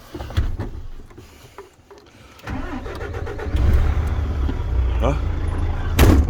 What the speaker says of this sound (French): on démarre le camion et on avance de 50 cm